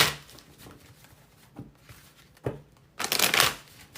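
Tarot cards being shuffled by hand in a quiet room, soft riffling bursts throughout and a louder, dense riffle near the end.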